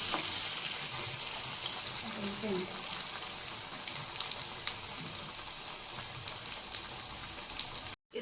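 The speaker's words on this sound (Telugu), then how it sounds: "సెకండ్ వైపుకి తిప్పుకున్నాం కదా ఇలా వేగుతున్నాయి" Sweet corn vadas deep-frying in hot oil, a steady dense crackling sizzle with scattered pops throughout, close and fairly loud, with no talk over it.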